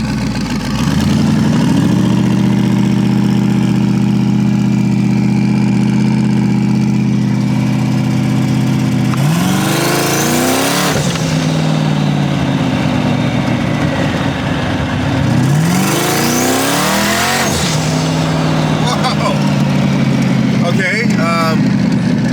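An eBay twin turbo LS 5.3 V8 idling loudly, then revving hard in two test hits at 10 PSI boost with rising and falling engine pitch, plus a short blip near the end.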